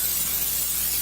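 Cooking spray hissed onto a baking pan for cornbread, one steady close spray with no talking.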